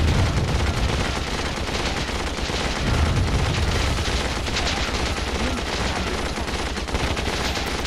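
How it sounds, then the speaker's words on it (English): Twin machine guns in the strategy game Warzone 2100 rattle in a dense, continuous burst of gunfire, loud and unbroken, layered over a busy battlefield din with no voices. "twin machine guns"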